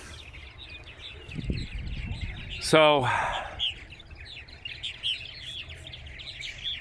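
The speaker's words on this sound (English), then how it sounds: "there's a lot of activity as more birds come in every day" Purple martins chirp and call around a nesting platform, with scattered twittering throughout and one loud close harsh call near the middle; someone speaks briefly.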